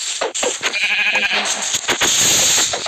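Sheep bleat repeatedly at close range in Minecraft, a series of wavering calls layered over game background sounds and some clicks.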